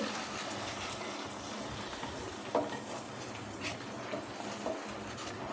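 A utensil stirs and scrapes through rice for lemon rice in a pan over a soft continuous sizzle, with a few brief clinks of metal.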